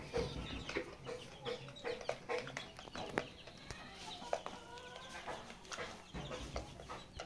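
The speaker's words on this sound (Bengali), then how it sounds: "বোর্ডিং করা দেশি মুরগি বাচ্চা, বোর্ডিং করা টাইগার মুরগি 1 মাসের বাচ্চা" One-month-old chicks of local desi and tiger chicken breeds peep and cluck in a poultry setting, with many short, overlapping calls spread across several seconds at a moderate distance and no talking.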